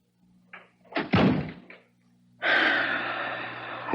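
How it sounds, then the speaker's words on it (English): A door in an old radio drama shuts with a close thump, followed by a gasp and a long, breathy rush of sound. "shut the door."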